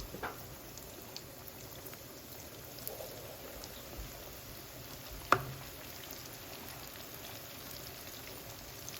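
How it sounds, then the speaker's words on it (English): Chicken pieces for General Tso chicken frying in hot oil in a pan on the stove give a faint, steady crackling sizzle, broken once by a sharp clack midway. "It's going to take several batches of frying."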